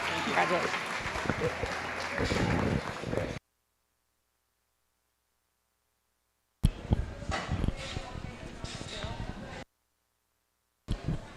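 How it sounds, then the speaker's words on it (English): An audience at a youth swine showmanship event applauds, crowd clapping in bursts broken by gaps, with a dog barking and people talking nearby. "Let's give all 3 of them a big round of applause"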